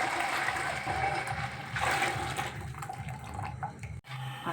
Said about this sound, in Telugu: గిన్నెలో పోసేస్తున్నాను ఈ బెల్లం నీళ్ళు